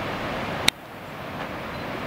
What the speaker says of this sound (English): It's a wall of water.